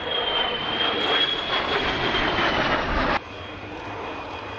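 A 1955 Swiss-built de Havilland Venom jet flies past at an airshow, its broad roaring whine sustained and fairly loud before dropping abruptly to a quieter, steady hum as it moves away.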